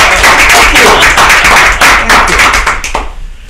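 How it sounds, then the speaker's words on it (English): A brief round of applause from the audience at a finance meeting, close and fairly loud dense clapping that fades out after about three seconds. "Can we give them a round of applause?"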